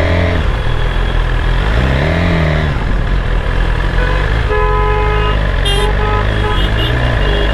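Heavy traffic jam heard from a BMW S1000RR motorcycle with a loud Akrapovic short GP full exhaust: constant close engine rumble, with several car and truck horns honking in overlapping bursts toward the end.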